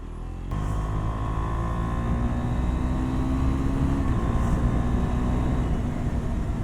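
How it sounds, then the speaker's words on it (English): A KTM 390 Duke Gen 2 motorcycle engine drones steadily at close range, holding a sustained revving tone with slight rises in pitch, no voices present. "It sounds amazing when you rev match and give it a little blip."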